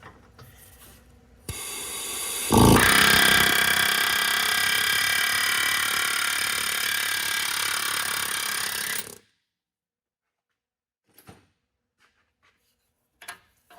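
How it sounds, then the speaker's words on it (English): An air hammer chatters loudly and continuously for several seconds at close range, knocking out a bolt on a 2009-2014 Ford F-150 transmission cooler line, then cuts off, followed by a few faint clinks in near silence. "Let me try the old air hammer trick."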